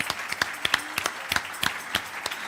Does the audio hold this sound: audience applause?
yes